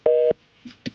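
A telephone busy signal sounds as one loud steady beep, followed by faint short tones, close and clear with no talk.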